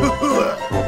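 A cartoon child who is ill coughs, giving a brief, loud, close pair of voiced hacking coughs.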